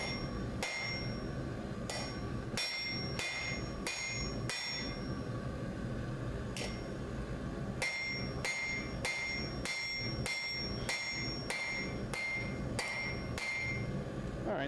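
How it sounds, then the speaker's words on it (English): Hammer forging metal on an anvil, with bursts of sharp ringing blows in quick runs separated by short pauses, steady close hiss of a forge underneath throughout. "Forging right now."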